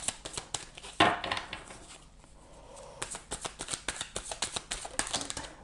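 Tarot cards are shuffled by hand in quick, crisp riffles and taps, one sharp flurry followed by a run of rhythmic card slaps, close and clear with no talking.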